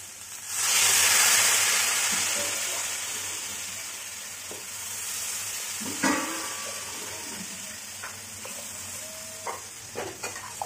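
A loud burst of sizzling as water hits a hot pan for an egg curry, settling into a steady hiss with occasional scraping and stirring clicks.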